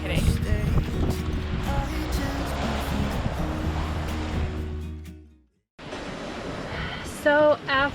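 A sailboat motor sailing on the open ocean, with a low steady engine rumble under wind and water noise that fades out, then a brief gap before a windier outdoor stretch with voices.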